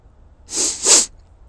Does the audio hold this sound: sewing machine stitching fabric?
no